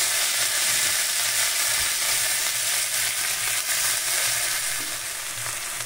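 Chickpea greens and green chilies fry with garlic in a pan, giving a dense, continuous sizzle close up with faint stirring beneath.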